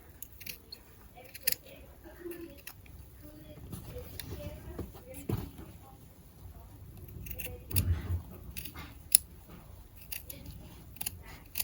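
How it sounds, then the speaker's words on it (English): Scissors snip away excess fabric from a hand-sewn face mask, a series of short, close crisp cuts and rustles spread through the clip with no talking. "You can cut this, that extra away."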